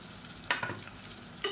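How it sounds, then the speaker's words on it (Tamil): Ginger, garlic and shallot paste sautéing with onions in a pan, a soft steady sizzle with a couple of sharp stirring scrapes of the spoon against the pan. "இப்போ இஞ்சி பூண்டு பேஸ்ட்டு வதங்கிட்டு இருக்கு"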